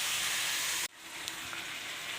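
Steady close sizzle of food frying in a covered pan, cut off abruptly partway through and replaced by a quieter, softer hiss of steam for the rest.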